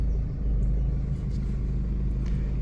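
A BMW N47 diesel engine idles and pulls against the throttle with a deep, steady low rumble, heard close and continuous with slight surges in level and no talk over it.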